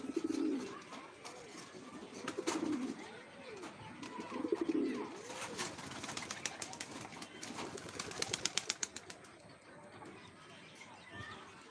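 Domestic pigeons coo in soft, rolling phrases, loudest early on, after being let out in the afternoon. Wingbeats, rustling and scattered clicks rise toward the end, and no one speaks.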